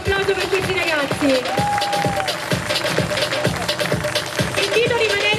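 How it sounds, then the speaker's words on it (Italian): An audience claps for young performers at a dance school recital show, with steady rhythmic claps in even beats under music and crowd noise, fairly loud throughout. "Un grandissimo applauso per questi ragazzi."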